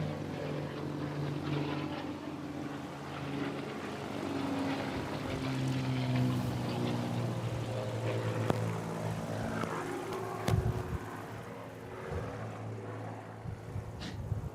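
Air show display aircraft, including a Spitfire with a Merlin engine, starting up close to the microphone, a steady droning engine rumble with shifting tones that holds throughout, joined by a few sharper knocks near the end.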